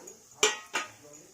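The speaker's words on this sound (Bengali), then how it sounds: "এই অবস্থায় আমি চানাগুলো ঢেলে দেব, যে চানাগুলো আমার সিদ্ধ করা ছিল।" Boiled chickpeas tipped into a pan for Bengali-style chana masala, heard as two sharp, close clattering clinks against the metal about a third of a second apart, with no talk.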